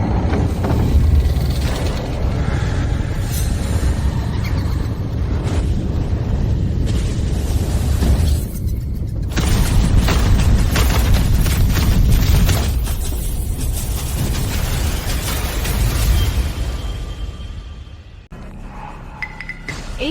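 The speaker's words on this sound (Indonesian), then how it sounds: "Para leluhur keluarga Wijaya semuanya meledak." A dramatic scene where ancestral tablets of a family blow up: a dense, sustained roaring blast with rumbling low end and crackling debris, loud throughout and tapering off near the end, no voices.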